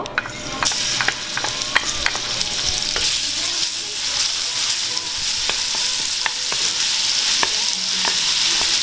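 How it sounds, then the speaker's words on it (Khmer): Loud, continuous sizzling of garlic frying in hot oil in a pan, with sharp crackles and pops scattered throughout, close up and without voices. "យើងលីងវាឲ្យវាប្រែពណ៌ក្រហម"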